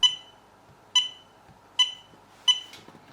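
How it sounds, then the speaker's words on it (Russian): A SkyRC B6 Nano Duo charger gives four sharp, piercing beeps at even intervals after its power is reconnected, each short and bright against a quiet background. "И вновь слышу эти пронзительные бип-бип."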